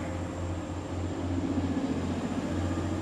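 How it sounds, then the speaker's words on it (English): Passenger train pulling away from a station platform, a steady low rumble with rhythmic pulsing and a faint high whine, close and continuous. "That's the train we just got off."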